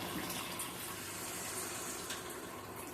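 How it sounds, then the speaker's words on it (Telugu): Water poured into a pot of egg curry, a soft steady gushing stream heard up close and fairly quiet, with no speech. "నేను ఇట్లా ఇంతవరకు 2 గ్లాసులు వాటర్ పోసుకున్నాను"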